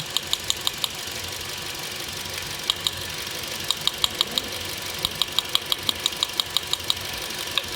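Toyota Corolla engine idling with a loud, fast metallic ticking that repeats in a rhythmic pattern over the low running hum, heard close up with no talk.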